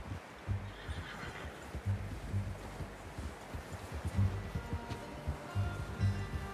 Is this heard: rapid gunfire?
no